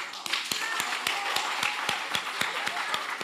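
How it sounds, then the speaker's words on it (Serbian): A studio audience at a Serbian panel event about social networks without likes applauds, with sharp, evenly spaced claps standing out over a steady wash of crowd noise and murmur for a few seconds. "može aplauz?"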